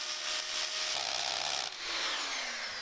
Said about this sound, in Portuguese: Eu parafusei a câmera ali na parede, num lugar que me dá uma boa visibilidade